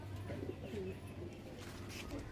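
A pigeon coos at a loft after being released, low repeated calls heard at moderate distance over a faint background murmur.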